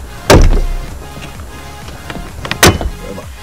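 Plastic door trim clips on a CJ Mitsubishi Lancer pop loose, with two sharp, loud snaps a couple of seconds apart and faint handling noise in between.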